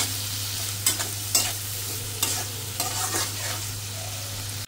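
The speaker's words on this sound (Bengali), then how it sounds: "পেঁয়াজ কুচিটা একটু হালকা ভাজা এলে আদা রসুন বাটাটাও দিয়ে দেবো, একটু হালকা ভাজি করে নেই।" Chopped onion fries with ginger-garlic paste in a pan, giving a steady sizzle broken by several sharp scraping clatters as the mixture is stirred, close and clear with no talking.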